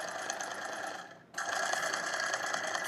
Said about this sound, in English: Keep the foot steady and centered as you sew the other side of the buttonhole.